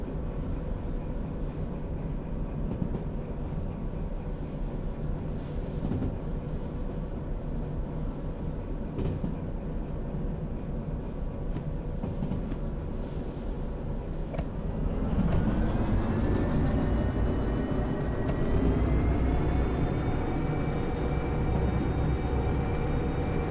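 Locomotive in the Derail Valley train game, overheated and hauling freight, rumbling steadily with a broad low drone that swells and rises in pitch midway, with no talk over it.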